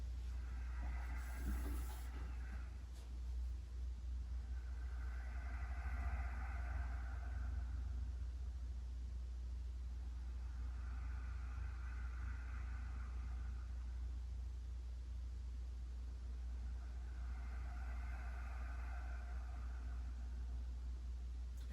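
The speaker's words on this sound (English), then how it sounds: "make a whispering sound at the back of your throat that resembles the ocean" Ujjayi breathing during a yoga flow: a soft, ocean-like whispering rasp from the back of the throat, heard as four slow, evenly spaced breaths over a steady low background rumble.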